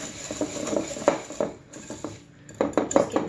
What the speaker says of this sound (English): And just whisk that oil and sugar together.